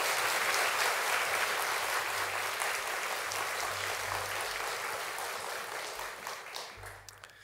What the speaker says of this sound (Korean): 환영하는 박수로 맞이해 주세요.